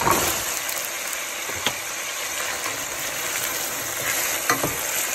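Bitter gourd (ampalaya) being stirred in hot oil in a pan, a steady loud sizzle with scraping utensil strokes and occasional sharper clinks, no talking.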